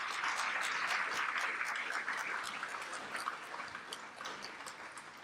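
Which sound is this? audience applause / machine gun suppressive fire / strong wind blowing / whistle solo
audience applause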